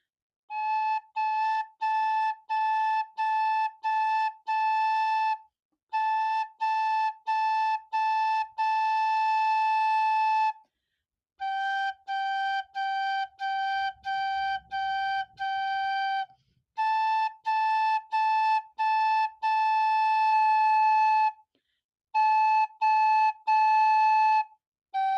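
Recorder plays the second part of a Mixolydian melody, clear breathy sustained notes in tongued phrases with short pauses between groups, solo and close.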